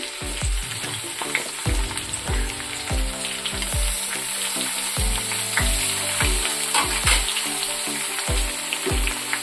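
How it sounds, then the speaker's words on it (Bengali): Potato, papaya and ridge gourd sizzle in hot oil in a pan, a steady close frying hiss broken by repeated clinks and scrapes of a spatula stirring the vegetables, with no talk. "আলু পেঁপে ভাজা হয়ে গেছে, ওর মধ্যে দিয়ে দেবো ঝিঙে"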